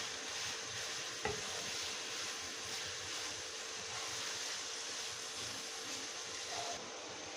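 Minced qeema fries in a pan over high heat with a steady, dense sizzle, its water cooking off, close and constant, with one brief clink of a utensil.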